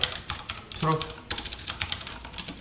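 Computer keyboard clicking as code is typed, a few quick keystroke bursts up close with a short spoken phrase in the middle.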